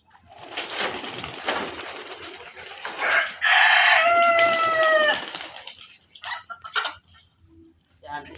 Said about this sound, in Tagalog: magpaparamdam muna po tayo ng ating mga alagang kalapate